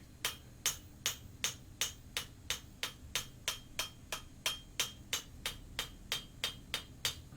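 A hammer forging and thinning the bottom edge of a knife made from a horseshoe, about twenty sharp metallic blows in a steady quick rhythm, roughly three per second, close by and without speech.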